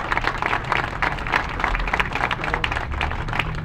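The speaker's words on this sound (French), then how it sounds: "Je pense que c'est une autre main d'applaudissement." Audience at a memorial gathering for Joe Rose during Montreal Pride clapping, a dense, steady burst of applause from a sizable crowd, sustained throughout.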